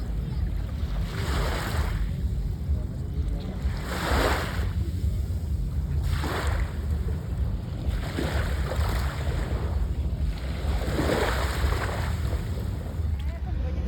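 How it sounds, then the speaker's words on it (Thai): Ocean waves rolling onto the beach at Pattaya, Thailand, with rhythmic surges every couple of seconds over constant loud wind buffeting the microphone. "บรรยากาศทะเลพัทยา"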